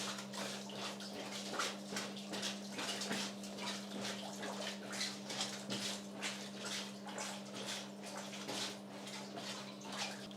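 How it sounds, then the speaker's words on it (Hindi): Water is splashed repeatedly onto waterproof Orazo riding boots, giving a run of quiet, rhythmic splashes and trickles under a steady background hum. "सो थोड़ा स्प्लैश और करते हैं."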